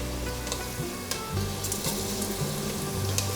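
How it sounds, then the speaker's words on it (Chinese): Shiitake mushrooms and ginger slices stir-frying in a pan for a vegan dish, with a dense, steady sizzle and intermittent tossing sounds, close and alone. "把香菇炒香"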